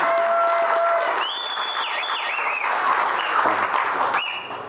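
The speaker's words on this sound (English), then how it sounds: "Everyone give a round of applause for the guy who owns this company." Audience applause for a company owner at a company gathering: a sustained clap from a crowd with high whistling or whooping tones over it, fading slightly toward the end.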